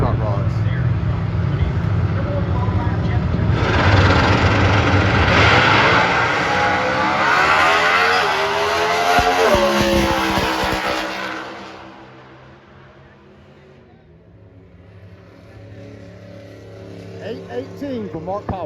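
Factory stock modern factory hot rods drag racing at ZMAX Dragway, engines roaring loud through a launch with a rising whine before fading away, over a continuous crowd and commentator voice.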